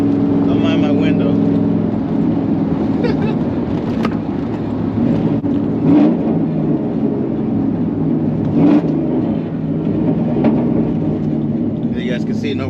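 A 2001 Chevrolet Silverado V8 with a five-speed manual and remote shifter rumbles loudly while driving and downshifting, the engine note rising and falling in surges with a few short knocks.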